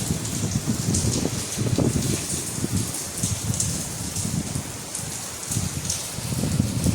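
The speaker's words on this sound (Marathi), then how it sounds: "खूप पाऊस वादळ पण आहे." Heavy rain pours steadily with gusting wind during a storm at the old Shiv temple in Ambernath, a dense, continuous hiss of drops close by, no voices.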